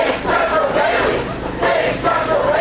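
Crowd cheering and chanting in rhythmic waves, loud and close, with massed voices rising and falling in repeated phrases.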